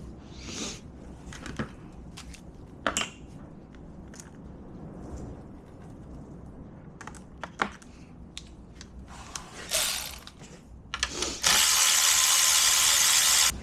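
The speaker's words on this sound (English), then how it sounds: "you want to remove the 5 10mm bolts for the timing cover" A ratchet clicks in short intermittent bursts while loosening the 10mm timing cover bolts on an Audi A6 engine, with handling clatter between and a loud sustained hiss at the end; close, no talk.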